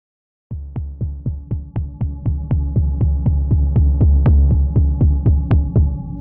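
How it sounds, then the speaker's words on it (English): Analog modular percussion from the Soundpaint library with distortion added, playing a steady run of about twenty punchy, throbbing low hits in an even rhythm, close and loud with no voices. "let's go ahead and just bring up our distortion and hear what that's going to sound like"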